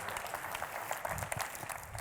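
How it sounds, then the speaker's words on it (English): Applause from a conference audience at a finance event, a soft, steady patter of many hands clapping in a large room, fairly distant and even throughout. "Can we have a round of applause, ladies and gentlemen?"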